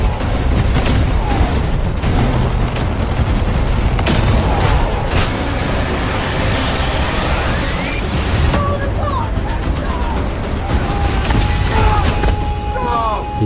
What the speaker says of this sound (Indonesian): kendaraan tersebut meledak dan hancur berkeping-keping